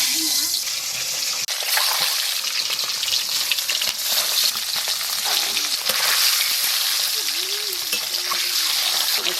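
Duck eggs fry in hot oil in a rural Indian village kitchen. A loud, continuous crackling sizzle runs throughout, with people talking over it.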